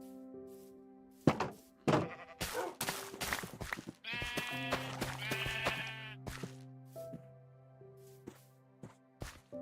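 Sheep bleat repeatedly on a sheep farm in the video game Minecraft, with several overlapping bleats mixed with blocky thunks and clicks, fairly loud and steady throughout.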